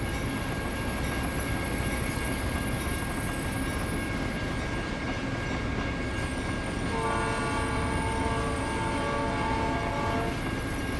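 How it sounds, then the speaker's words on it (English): A long train rolls past in the trucking game American Truck Simulator, its steady loud rumble filling the scene, with a sustained horn tone sounding in the latter part. "Just in time for this long train."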